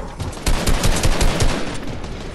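Rapid automatic gunfire from a competitive console shooter match, sustained bursts of shots over a rolling background of game sound, fairly loud and continuous with no talk over it.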